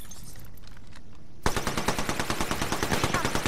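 Rapid automatic gunfire in Apex Legends breaks out suddenly after a quiet stretch of game ambience, then continues as a steady, evenly spaced stream of loud shots to the end.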